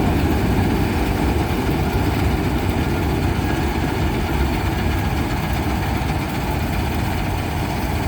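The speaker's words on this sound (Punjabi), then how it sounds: "ਖੇਤ 'ਚ ਆਪਾਂ ਹੁਣ ਮਸ਼ੀਨ ਸਟਾਰਟ ਕੀਤੀ ਆ" A harvesting machine engine running in an arhar field, a loud, steady, low diesel-like rumble that holds an even drone throughout with no breaks.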